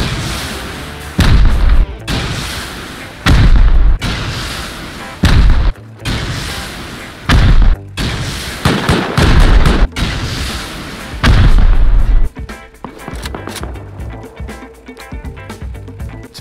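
Rocket explosions from a raid in the survival game Rust, a run of loud, heavy booms in several bursts with brief gaps between them, easing into quieter rumbling clatter toward the end.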